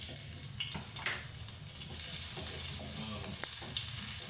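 Garlic sautés in a pan for pork rib kaldereta, a steady hiss of frying with scattered clinks and scrapes of stirring, growing slightly louder partway through.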